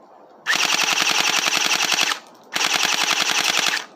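A cheap airsoft AK-47 rifle fires full auto in two rapid bursts of about a second and a half each, a fast even mechanical rattle, loud and close, with a pause between.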